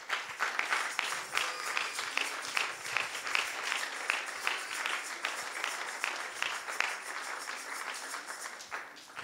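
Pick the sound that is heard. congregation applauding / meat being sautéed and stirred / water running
congregation applauding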